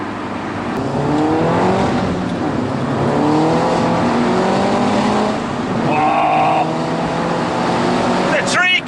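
A modified 270 bhp Mini John Cooper Works Roadster's Akrapovic exhaust roars loudly as it accelerates, the engine note climbing through gears in sustained waves, close up with a voice speaking over it.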